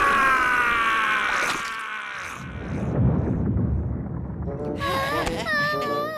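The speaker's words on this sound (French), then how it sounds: "Quel son ça fait quand tu rugis fort, bête féroce?" A ferocious beast in a French children's cartoon lets out a loud, rumbling roar, voiced by a performer, between stretches of animated character talking and squeaky voices.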